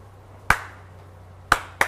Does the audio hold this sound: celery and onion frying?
no